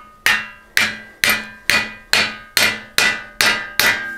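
A hammer peens a scythe blade on an anvil, eight sharp ringing metallic strikes in an even, steady rhythm, close and loud with short decaying rings between blows.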